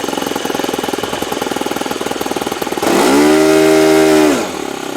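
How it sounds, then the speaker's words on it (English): Cosmic Wind racing aircraft engine idling with a steady rough chop, then snapping to full throttle into a loud, sustained high roar for over a second before easing back toward idle; no voices. "when I give it full throttle from idle, it's not dying"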